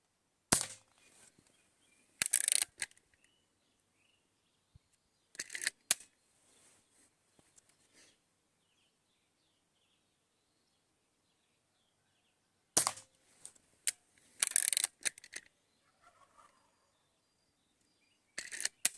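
Sharp, snappy shots from an IZh-53M air rifle firing Soviet Diabolo pellets, in separated clusters, each a crisp crack with a short mechanical click, against near silence.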